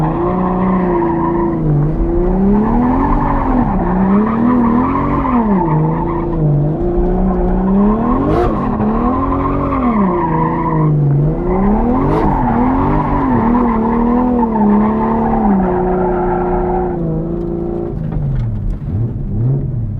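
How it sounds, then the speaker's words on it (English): A Toyota JZX100 drift car scrubbing its tires before a competition battle, loud and close: a steady engine drone with wavering revs and long rising-and-falling tire squeals throughout, no talking. "I'm gonna warm up my tires real quick"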